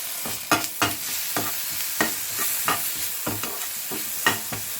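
Sliced onions and green chillies hit hot oil in a pan, giving a close, continuous sizzle broken by a quick run of sharp spatula scrapes and clinks as they are stirred.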